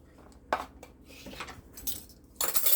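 Soft clinks and scrapes of a utensil against a bowl as blue cheese crumbles are added to a dressing with lemon juice, a few separate taps followed by a louder clatter at the end, fairly quiet.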